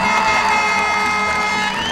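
A crowd cheers and shouts loudly and continuously at a cycle speedway national final race in Coventry, a dense steady roar with no break, greeting a popular winner.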